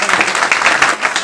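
A stand-up comedy audience applauding, a short burst of dense, steady clapping from many hands in a club room.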